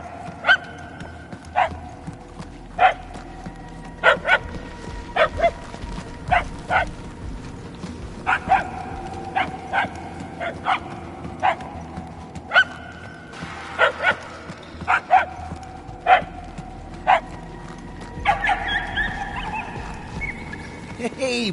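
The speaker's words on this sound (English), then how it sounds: "The barking is getting fainter." Dog barking in the video game Guardians of the Galaxy: repeated sharp yips and barks at irregular intervals, some in quick pairs, moderately distant against a low ambient hum, continuing throughout with occasional whimpering tones.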